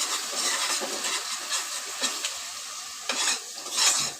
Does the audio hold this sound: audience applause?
no